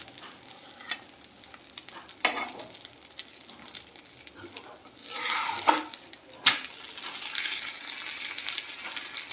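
Food roasts in a pan over low heat while a utensil stirs and scrapes it, with soft sizzling broken by a few sharp clinks of metal against the pan.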